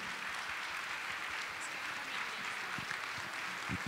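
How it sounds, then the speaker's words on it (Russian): Audience applause at a musical theatre festival, steady dense clapping holding at a fairly even level throughout, sounding somewhat distant and filling the hall without a break. "Дамы и господа, ваши бурные аплодисменты."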